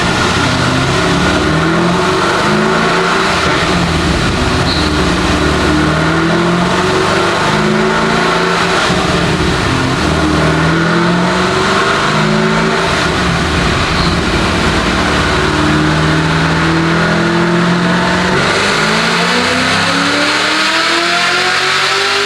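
A car engine revs hard and steadily during a burnout, a loud, continuous roar with rising and falling pitch sweeps, running alone for over twenty seconds.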